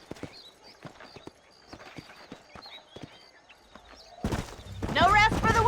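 Horse hooves clip-clop in a steady walking rhythm in the video game Red Dead Redemption, with a few light chirps, before a voice speaks loudly over the end.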